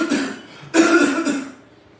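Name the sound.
imitated cough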